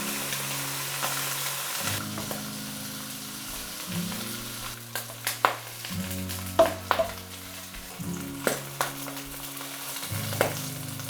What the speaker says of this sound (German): Wenig Öl in die heiße Pfanne. Das Fleisch von allen Seiten anbraten.